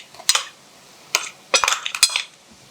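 A spoon stirs ground masala paste into frying onions in a metal pan for a Maharashtrian brinjal and potato bhaji, making several sharp close clinks and scrapes in irregular bursts, with no talk.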